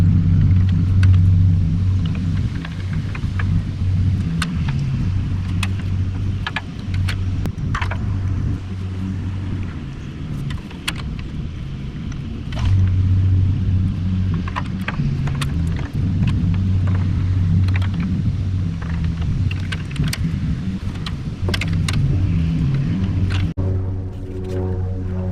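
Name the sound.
1949 Farmall Cub tractor engine running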